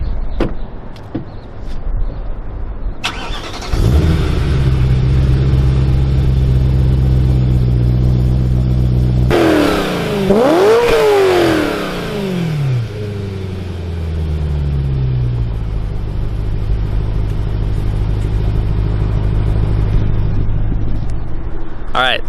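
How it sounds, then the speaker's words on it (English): A warm BMW E92 M3 with its stock exhaust idles steadily, is revved hard in a rising and falling burst, then drops back to a smooth idle, heard close by. "just revving it stock, that way you guys can hear the difference"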